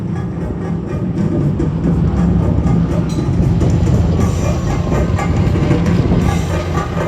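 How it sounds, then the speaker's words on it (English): A West Virginia and Pennsylvania Air National Guard aircraft makes a low, high-speed pass about 200 feet above the ground at the Shellharbour airshow, a loud, steady, broadband roar that fills the whole stretch without fading. "High-speed pass. Just 200 feet above the ground, absolutely amazing."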